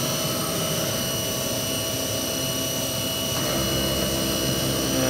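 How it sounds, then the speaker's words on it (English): Haas CNC mill running up for a tool change to a ball mill, a loud steady mechanical whine and hum with a shift in tone partway through, no talk. "it's going to run up and it's going to do a tool change"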